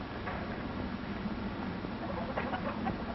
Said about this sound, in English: They are white leghorn chickens, wide awake now, and waiting for breakfast.